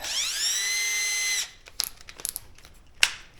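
Power drill with a bit fitted, a high whining spin-up that holds steady for over a second then stops, followed by faint clicks and handling noises.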